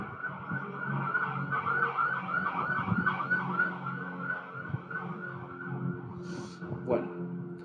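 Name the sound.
ambulance siren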